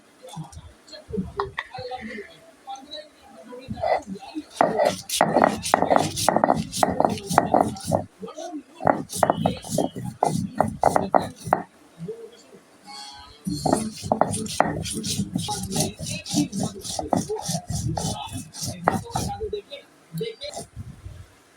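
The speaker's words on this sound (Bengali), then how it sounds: "এই যে আমি শুটকিগুলো সব কিছু বাইটা নিতেছি" Dried fish for shutki bhorta being ground by hand on a stone pata slab, steady rhythmic scraping and knocking strokes in bursts, close up, with someone talking throughout.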